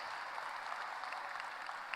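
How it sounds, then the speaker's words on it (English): Graduation audience at a high school commencement clapping steadily in a broad, even wash of applause, moderately distant and fairly quiet throughout, with no talk over it. "You should all applaud yourselves."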